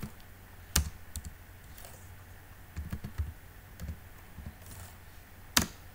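Keys clatter on a computer keyboard while coding, sparse irregular taps with a few sharper louder strokes over quiet room background, no speech.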